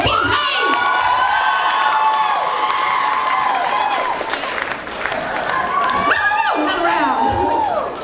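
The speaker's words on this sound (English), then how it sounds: "Massive round of applause for Ken Hayes!" A crowd at the Overload NZ 2025 cosplay competition erupts in loud cheering, whoops and high shouts over applause, a constant roar that swells and dips as a contestant is celebrated.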